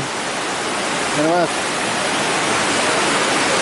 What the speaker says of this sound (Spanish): como ya estamos en el río Reventazón